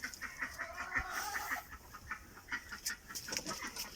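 Adler breed roosters and hens cluck in a backyard, with soft repeated clucks and chatter at moderate distance over a steady hiss of background noise.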